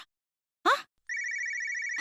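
A telephone rings with an incoming call, sounding as a steady electronic trill that holds for about a second after a brief noise, then cuts off as a voice starts at the end.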